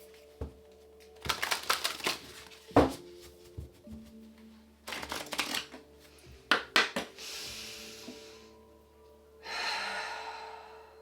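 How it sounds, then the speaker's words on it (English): Quick riffling bursts of tarot cards being shuffled, several separate shuffles with pauses between, close and crisp in an otherwise quiet room. "One more shuffle."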